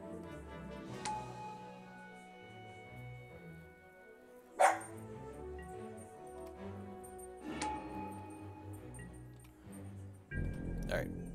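A dog barks a few times in sharp, widely spaced bursts, close by, over a steady murmur of indoor background sound.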